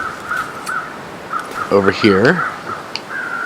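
Crows caw near a dead stag at Desolation Point in The Long Dark, harsh repeated calls heard over wind, with someone speaking briefly.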